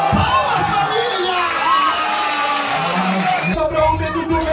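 An audience at a freestyle rap battle cheers and whoops loudly, with excited shouts and voices layered over the crowd noise throughout.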